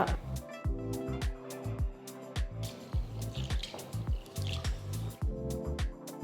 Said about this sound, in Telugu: ఇందులో నీళ్లు పోసి శుభ్రంగా కడిగిన తర్వాత